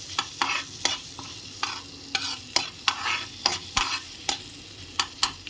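Garlic fries in melted butter in a pan with a steady sizzle, punctuated by a dozen or so quick scraping strokes of a spoon in an uneven rhythm, close and fairly loud.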